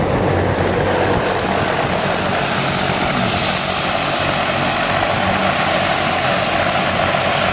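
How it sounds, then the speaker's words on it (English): A propeller airplane loaded with skydivers sits ready for takeoff, its engine a loud, constant droning roar with a whining high tone, steady and close for the whole stretch. "this plane that is just about ready to take off with a load of skydivers"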